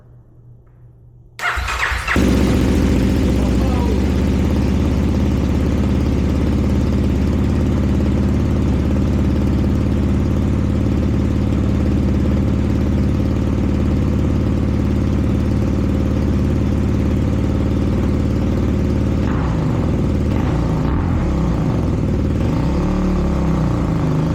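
A Kawasaki KLX300R dirt bike fitted with an FMF exhaust, cranked for its first start after sitting all winter, fires up abruptly after a brief quiet moment and settles into a loud, raspy idle with small blips of revving toward the end.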